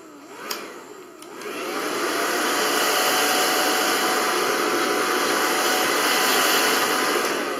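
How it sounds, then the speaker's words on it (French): A hair dryer dries a washed computer keyboard's circuit board. After two faint clicks it starts up and whooshes into a loud, steady airflow roar that runs to the end. "vous la faites sécher simplement, hein, avec un séchoir"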